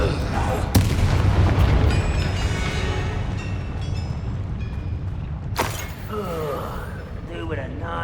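Fire and explosion spells, Incendio and Confringo, blast in Hogwarts Legacy combat: two sharp cracking impacts stand out over a constant roaring battle din, with a voice briefly audible.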